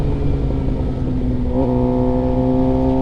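A Suzuki GSX-R 750 motorcycle with an M4 exhaust and flashed ECU idles loudly up close, then the engine revs up and holds a higher steady drone.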